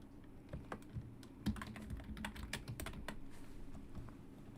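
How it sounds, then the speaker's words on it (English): Quiet, close keyboard typing at a computer, a soft irregular patter of keystrokes with one sharper tap, continuing alone at low volume. "If there's some sound, I hope it's like a nice ASMR typing sound."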